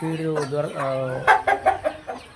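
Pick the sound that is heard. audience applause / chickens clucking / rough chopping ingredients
chickens clucking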